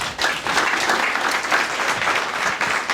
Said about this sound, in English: Please let me know by a round of applause if you agree.